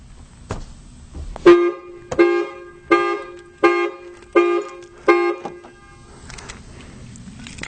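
A Ford Mustang GT car alarm honks six times in a steady, evenly spaced rhythm, loud and close, with brief pauses between blasts.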